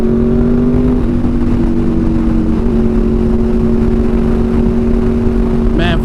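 Honda VFR800 motorcycle fitted with a Power Commander V, its engine droning steadily under way with a sustained tonal hum and small pitch shifts, then a brief change near the end.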